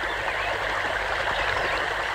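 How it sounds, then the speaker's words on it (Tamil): Water running steadily through an irrigation channel beside a farm field fed by a pump set, a constant close rushing and gurgling flow with no voices. "வாய்க்கால இவ்வளவு தண்ணி போகுது"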